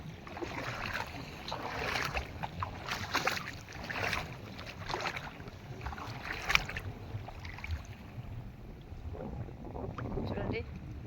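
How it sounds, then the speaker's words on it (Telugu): Strong wind gusting over open water beside fishing boats, a steady rushing roar with buffeting against the microphone and faint lapping water. "గాలి బాగా ఫుల్లుగా అయితే లేచిందండి"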